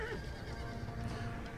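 Horses neighing during a battle in the strategy video game Total War: Attila, a faint whinny over a low, busy rumble of battlefield noise.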